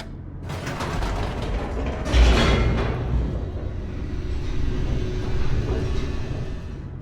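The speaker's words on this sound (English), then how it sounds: "The elevator raced downward, plummeting towards an unknown fate." An elevator in The Stanley Parable descends with a steady mechanical rumble, grinding, creaking and ratcheting. A louder clunk comes early on, then the drone continues without pause.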